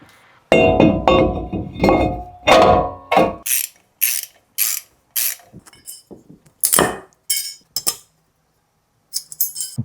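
Brake caliper piston on a Chevrolet Colorado / GMC Canyon front brake being pushed in with a tool, giving a run of sharp close ratcheting clicks in irregular bursts separated by brief pauses.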